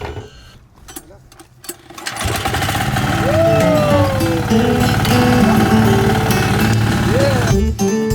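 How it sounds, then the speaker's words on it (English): A small drainage machine engine in Sri Lanka is cranked and catches after a couple of seconds of quieter fumbling, then runs loud and steady with a rapid buzzing putter close by. "Our next task is to help them start this drainage machine."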